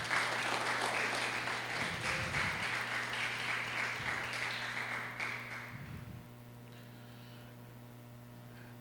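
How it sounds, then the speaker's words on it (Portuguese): A church congregation applauds loudly and steadily for about six seconds, with a few brief swells in the clapping. It then stops abruptly, leaving only a low, constant electrical hum. "Uma salva de palmas para o Senhor."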